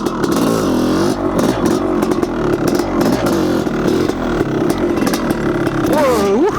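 A Honda CR500 two-stroke dirt bike revs hard during a wheelie on single-track trail, loud and close, the engine surging and bogging in uneven bursts with a rising rev at the end.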